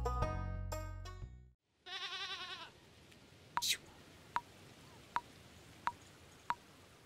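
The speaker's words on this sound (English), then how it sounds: "Do we want Bernard the goat" A goat in Stardew Valley gives one short, clear bleat after a bright musical jingle, followed by a row of soft, evenly spaced game clicks in quiet.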